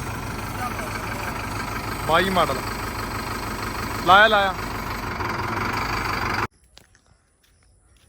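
A steady tractor engine idles nearby throughout while someone speaks over it twice, then the sound cuts off abruptly near the end.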